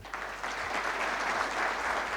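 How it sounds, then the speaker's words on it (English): An audience applauds at an economics panel discussion session, giving steady, full applause throughout from a crowd in a hall, with little talk. "can we give him a round of applause"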